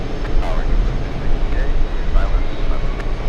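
A jet airliner at JFK airport rumbles steadily in the distance as a broad, continuous roar, with people talking over it throughout.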